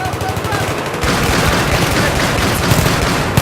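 A USAS automatic shotgun fires in rapid, sustained bursts during an 8-versus-8 competitive video game match. The loud, dense gunfire is steady and close, and faint voices can be heard beneath it.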